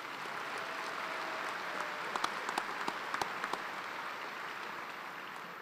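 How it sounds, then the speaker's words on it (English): A university commencement audience claps steadily in a large hall, soft and distant, with a few sharper, closer claps standing out midway. "Please join me in a round of applause for these individuals."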